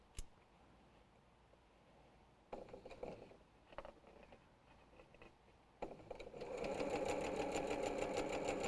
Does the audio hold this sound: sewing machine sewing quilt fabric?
yes